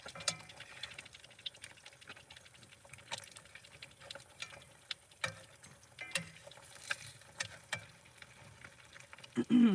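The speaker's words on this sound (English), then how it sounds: "let me show you an angle of the eggs cooking in the pan" Eggs frying in a pan give a faint, steady sizzle dotted with small crackles and pops, quiet and close.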